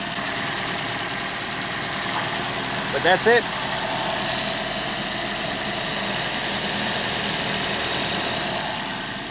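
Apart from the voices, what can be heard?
Scion iQ three-cylinder engine idling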